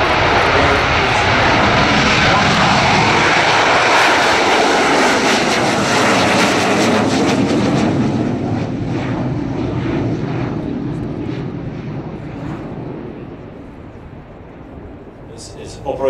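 A Spanish Navy Harrier jump jet with a Rolls-Royce Pegasus engine flies a short takeoff and landing demonstration at the Farnborough airshow, its loud roaring engine filling the air and then slowly fading, with a commentator talking over it.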